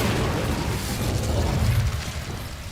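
Incendio fire spell cast in the video game Hogwarts Legacy, a loud, rumbling, whooshing burst of flame with low booming crackle that holds steady before easing slightly.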